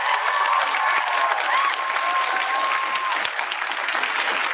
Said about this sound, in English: Can we please have a big round of applause for our debaters?